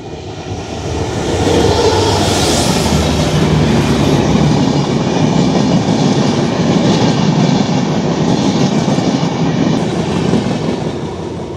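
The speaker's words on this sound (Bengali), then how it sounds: "আপনারা দেখতেছেন একটা ট্রেন চলে আসছে।" A train rolls in along the railway tracks, its loud, steady rumble and clatter building within the first two seconds and holding close and continuous throughout, with no talk over it.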